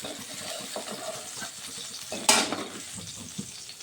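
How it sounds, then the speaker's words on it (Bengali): Koi fish fry in oil in a pan, a quiet, steady sizzle with stirring and clinks of cookware, plus one sharper splattering burst partway through. "বাকিগুলো আমি এইভাবে ভেজে নিচ্ছি"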